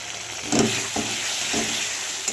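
Salted, turmeric-spiced food frying in a pan, a soft continuous sizzle broken by three or four spatula scrapes as it is stirred, no voices.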